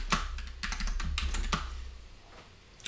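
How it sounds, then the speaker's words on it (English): Typing on a computer keyboard: a quick burst of crisp, close key clacks in uneven clusters over about two seconds, then near silence with a final single tap, no talk. "So I'm going to type in"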